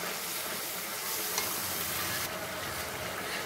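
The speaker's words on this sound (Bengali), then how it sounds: "আমি কিছুটা মশলা এখন মশলা কষানোর সময় দিব" Packet biryani spice mix sizzles in hot oil in a pan for biryani, with steady frying hiss and soft stirring scrapes throughout, close and even, no voices.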